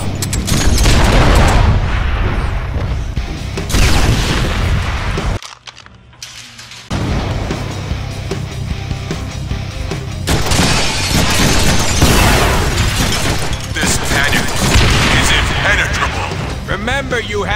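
Rocket attacks and explosions roar through a Deadpool video game boss fight against Arclight, a dense, loud barrage of booms and blasts with a short lull, joined by voices talking over the chaos.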